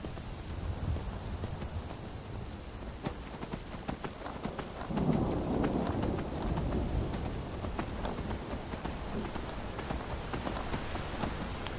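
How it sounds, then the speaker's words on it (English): Skeletal horse hooves galloping in Skyrim on PS4, a steady clip-clop rhythm of many quick hoof beats under a constant ambient wash and faint background noise, with no talk. "Even though it's strange, riding around on a skeletal horse."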